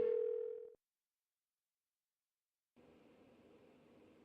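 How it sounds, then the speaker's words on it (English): A phone rings unanswered in the video game Persona 4 Golden: one electronic ring tone sounds alone and fades, then silence falls before a steady, soft line hiss begins. "Why won't she pick up the phone?"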